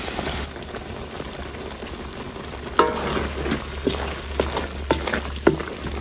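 Red chile sauce for beef tamales simmering in a pot, a low steady bubbling hiss with a few soft pops and light stirring clinks, close and moderately quiet with no voices.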